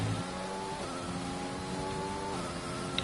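Race car engine in a racing video game running at steady high revs, with a shifting tonal whine as the car oversteers, continuous and close without a clear tire squeal.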